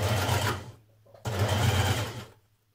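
Sewing machine stitching the shoulder seams of a Burda 6233 blouse, two steady close runs of motor hum and needle chatter with a short pause between, then stopping.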